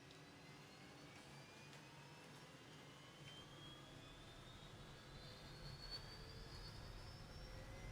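Faint aircraft engine spooling up during start in Microsoft Flight Simulator: a thin, steadily rising whine over a soft, continuous low rumble, with no voices.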